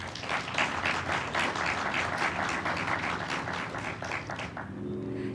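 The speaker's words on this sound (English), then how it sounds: "Please join me in giving Emily another round of applause." A large crowd applauding at a university graduation ceremony, a thick, sustained roll of clapping that holds steady for several seconds and then tapers off, with a faint tone appearing near the end.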